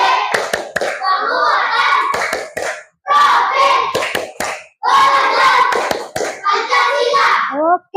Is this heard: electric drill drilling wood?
no